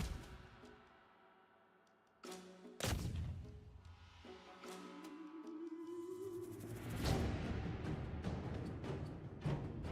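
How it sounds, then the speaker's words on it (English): Artillery fire in a Total War: Warhammer battle: several heavy booming shots with long decaying tails, spaced seconds apart over a rumbling battlefield din, with one deep thump near the start and others louder later. "We're getting shot a little bit with artillery"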